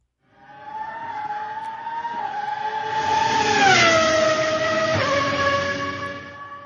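A Formula 1 race car engine whines past at speed, its pitch dropping sharply as it goes by, loud and close before fading.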